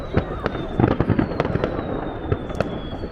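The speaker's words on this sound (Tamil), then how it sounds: "இதுதான் நெதர்லாந்தில் வெடிக்கிற கடைசி பட்டாசு திருவிழா" Fireworks burst at New Year in the Netherlands, a close, loud run of sharp irregular bangs and crackles for about three seconds.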